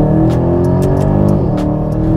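An Aston Martin DBX in Sport Plus mode gives a loud, steady engine drone that rises slightly in pitch, heard from the cabin with no talking.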